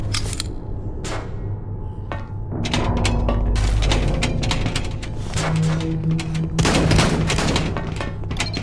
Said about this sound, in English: Deploying frag rounds!